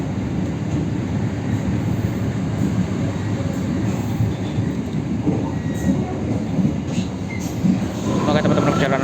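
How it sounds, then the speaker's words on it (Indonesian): The KA Cikuray passenger train rolls into Karawang station with a continuous rumble of wheels on rails heard from inside the car, faint squeals rising near the end, and voices talking over it. "perjalanan kereta api Cikuray masuk stasiun Karawang"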